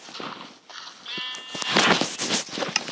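Several short sheep bleats sound close by in Minecraft Pocket Edition among chunky game effects and light stepping noises, with a thin tonal whine running through the middle.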